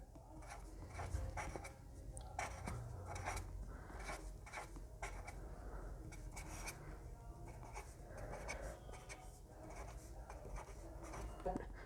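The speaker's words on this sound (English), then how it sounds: "I am writing because for your understanding." Pen or marker writing out a 3 by 3 matrix eigenvalue and determinant calculation, a steady scratchy stroking that continues throughout with brief pauses and a low background hum, no talking.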